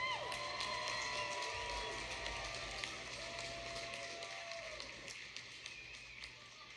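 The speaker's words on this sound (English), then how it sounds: "how about a round of applause for these two great fighters?" Arena crowd at a Cage War cage fighting event cheering and applauding two fighters, a continuous moderate roar that slowly fades, with scattered claps and shouts.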